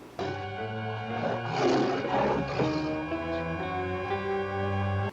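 A tiger in a 1960s Batman television episode gives a drawn-out, rumbling roar that lasts several seconds, loud and close, with no speech.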